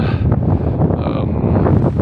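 Strong, steady wind roars across an open mountain plateau at Velika Planina, buffeting the microphone in a continuous rumbling gust with no voices.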